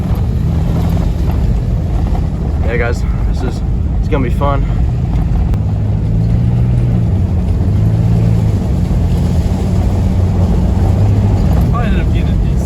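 A Ford 6.0 Powerstroke diesel truck rumbles steadily while driving, a low continuous engine drone with wind noise from inside the cab as people talk over it.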